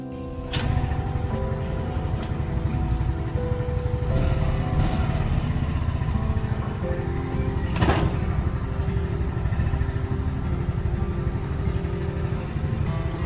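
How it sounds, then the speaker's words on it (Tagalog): A Yamaha Gravis scooter with a compression release problem runs steadily after a kick start, its small engine putting out a continuous low drone close by, with one sharp clunk partway through. "I-kick na po natin, mga kabayan, upang umandar ang ating motor."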